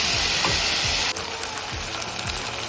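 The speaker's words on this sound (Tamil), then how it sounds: "தக்காளி நல்லா வதங்கட்டும்." Bright, steady sizzling of tomatoes sautéing in a pan for tomato rice, loud at first then settling quieter, with a few faint clicks and taps.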